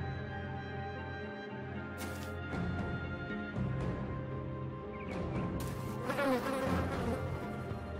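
Swarm of bees buzzing in the Battle Brothers video game, a dense insect drone throughout with sharp impact crashes and clatter of combat breaking in at intervals, no voices.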